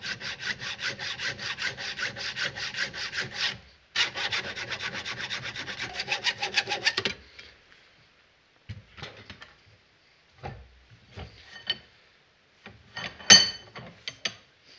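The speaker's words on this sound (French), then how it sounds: "Là je me mets contre et je scie." A hand hacksaw cuts through a metal part of a Honda Dominator 650 RD02 motorcycle during its airbox and front-end rebuild: quick, rhythmic rasping strokes, close and steady for about seven seconds, then a brief pause and a few faint clicks and taps.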